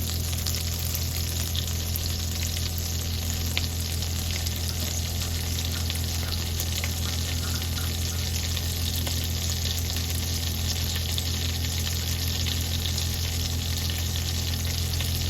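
Kingfish frying in butter and olive oil with chili flakes and thyme, a steady close sizzle running throughout with faint scattered pops, no voices.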